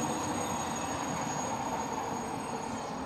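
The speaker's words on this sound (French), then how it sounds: "il y a les bruits ambiants, il y a les trains, les voitures" Train rumble on a Paris street, a steady rolling roar with faint wheel squeal and rail clatter, close and even in level, with no voices.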